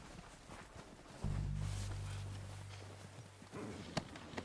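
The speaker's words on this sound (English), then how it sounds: "They're coming down with the horses." Horse hooves clip-clop in the Red Dead Redemption 2 video game, a steady walking rhythm of hoofbeats under a sustained low rumble, moderately close and mixed with ambient game sound.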